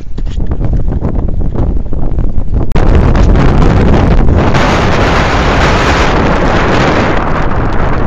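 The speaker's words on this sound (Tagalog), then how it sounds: "Galing ang hangin eh." Strong sea wind buffets the microphone while fishing, a loud, constant roar with one sharp knock partway through.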